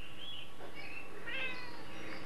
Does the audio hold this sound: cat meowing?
yes